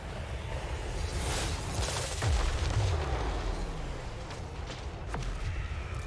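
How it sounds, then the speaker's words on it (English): An artillery bombardment rolls across a Total War: Warhammer 3 battlefield, with repeated distant booms and blasts, a few sharper impacts standing out against a steady rumbling battle din. "I have got some pretty brutal bombardments to feed to Cathay over here"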